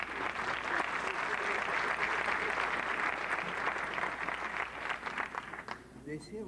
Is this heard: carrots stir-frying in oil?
no